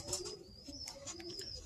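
Birmingham Roller pigeons coo softly in a loft, a few low murmuring calls close by, with faint chirps and background rustle and no talking.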